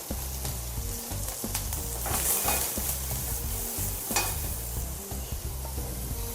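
Onions frying in coconut oil in a Samoan home kitchen, a continuous hiss of sizzling with repeated scraping and stirring strokes of a utensil against the pan, close and steady with no talk.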